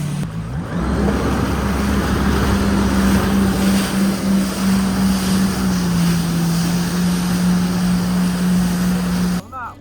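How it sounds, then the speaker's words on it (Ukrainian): Jet skis riding on open water, a loud continuous motor whine that shifts pitch as it goes, mixed with rushing water, spray and heavy wind buffeting the microphone. "А ми катаємося на скутерах."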